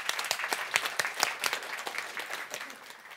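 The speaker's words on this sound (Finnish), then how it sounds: "Annetaan nyt Timolle aplodit ensin." Brief applause from a seminar audience in a conference setting, a moderate crowd clapping steadily for a few seconds at middling distance.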